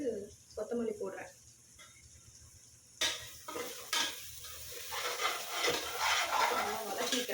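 Mint and coriander sauté in a pan with bursts of sizzling and scraping stirs, growing into a fuller crackle in the second half while a voice speaks quietly early on.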